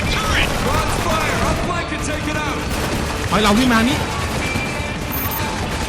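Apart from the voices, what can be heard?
gunfire from a video game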